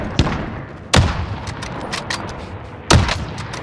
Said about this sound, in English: look at this guy trying to shoot through the walls